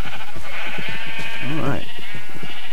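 Sheep in a Minecraft sheep farm give a loud, wavering bleat mid-clip amid a game soundscape, while someone says a short word at the start.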